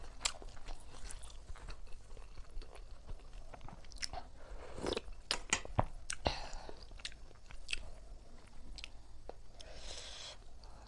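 Close, wet chewing and biting on bamboo shoot curry with wild vegetables, a crunchy and squishy rhythm of bites and mastication sounds throughout.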